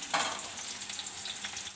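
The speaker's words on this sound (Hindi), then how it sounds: "चलिए अब डाल देते हैं इसमें प्याज, हरी मिर्च, इनको करेंगे फ्राई।" Onions and green chillies fry in hot oil in a pan, a bright, continuous close sizzle with a soft stirring scrape, brief and unbroken by voices.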